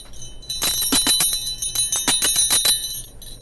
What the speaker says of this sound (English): the bell still rings for me